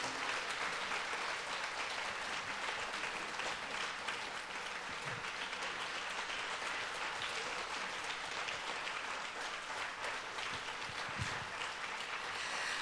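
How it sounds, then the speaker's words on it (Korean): A church congregation at a Wednesday service applauds a preacher, steady sustained clapping from many hands filling the room throughout. "격려의 박수를 이렇게 많이 보내주셔서 너무 감사를 드립니다"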